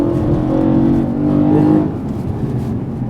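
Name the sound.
BMW M3 engine through the plenum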